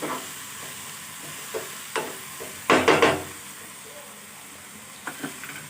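Ridge gourd with turmeric is stirred in a pan, with soft scraping sizzles and a cluster of louder clattering stirs in the middle, then a few light scrapes near the end, all close and fairly quiet.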